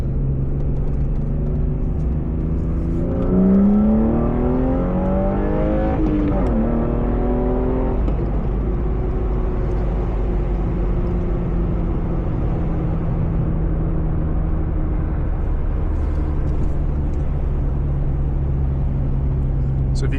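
A BMW E36 M3 engine drones steadily from inside the car while driving on a road near Austin, with rising and falling harmonic tones as it accelerates and shifts, and a voice talking over the continuous engine rumble.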